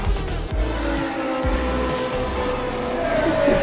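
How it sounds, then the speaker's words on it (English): A Lamborghini in Fortnite drives and drifts with a sustained engine drone, shifting whines and a few quick tire-squeal sweeps, loud and steady throughout. "Oh, I can drive. Let's do it. I'm drifting."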